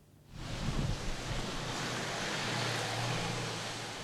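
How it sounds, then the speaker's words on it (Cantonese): Strong typhoon wind and surf roar along the Kennedy Town waterfront in Hong Kong during severe tropical storm Merbok: a dense, continuous rush of wind and breaking waves that swells up after a brief quiet start, with no voices. "有市民就去到海邊感受強風威力"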